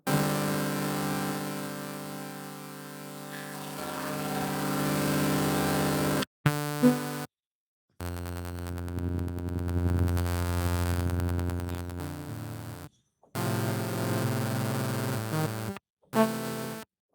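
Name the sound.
saturation and bit crush distortion effect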